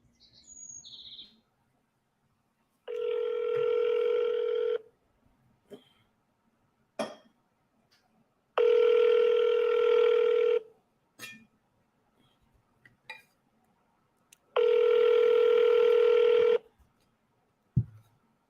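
A telephone ringback tone sounds for an unanswered call: three long, loud, steady buzzing tones a few seconds apart, separated by near silence with faint small clicks, close and clear.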